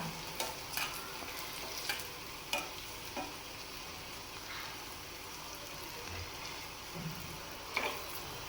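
Palm fritters fry in oil with a faint, continuous sizzle and scattered quiet ticks and spatters at irregular intervals, heard fairly softly from close range.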